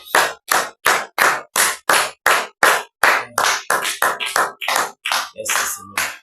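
A church congregation claps in steady, evenly spaced unison beats during worship, then breaks into looser overlapping clapping with scattered voices toward the end; loud and close throughout.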